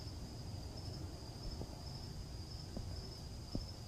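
Steady high-pitched cricket chorus outdoors in a tropical setting, continuous and fairly faint, with a few soft clicks and low rumble underneath and no talking.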